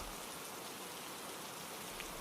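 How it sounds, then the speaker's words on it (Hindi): Steady rain falls outside, a dense, even hiss that holds without a break from start to finish. "बाहर बारिश कुछ धीमी पड़ गई थी।"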